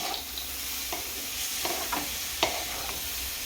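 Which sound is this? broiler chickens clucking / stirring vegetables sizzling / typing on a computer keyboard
stirring vegetables sizzling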